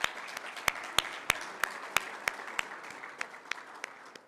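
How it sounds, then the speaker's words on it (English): Applause from a small audience at a law school memorial for Professor Emeritus Frederick M. Hart, a thin spread of separate claps, some sharp and close, fading out over a few seconds. "So a round of applause for them as well."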